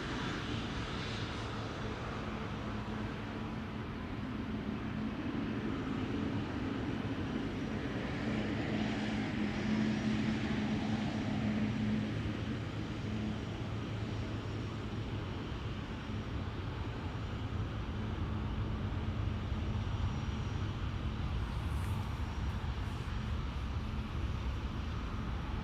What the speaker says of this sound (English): KLM flight 871 to Delhi is lining up here.